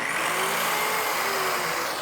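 A cheap, poorly rated power tool, a brushed-motor tool connected to a dust extraction hose, runs with a loud, harsh, high-pitched whine that holds steady throughout.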